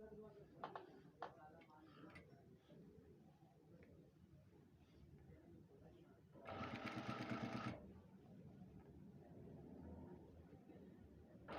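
A sewing machine stitches a kurta sleeve in short bursts of rhythmic ticking, with one loud sustained run of stitching in the middle, while someone talks faintly nearby.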